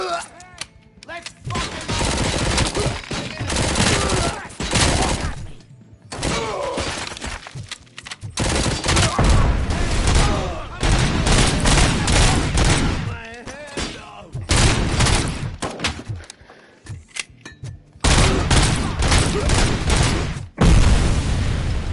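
Dense gunfire and combat bursts from the video game RoboCop Rogue City, loud and continuous with brief gaps, rapid repeated shots layered with impacts and booms, with some voice-like sound mixed in.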